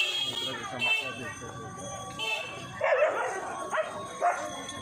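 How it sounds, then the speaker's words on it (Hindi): Dogs bark and yip during a fight with a cow on a riverside ghat in Ayodhya. Bursts of barking rise over steady crowd noise and talk. "कुत्ता गाय के लड़ाई भऽ रहल है।"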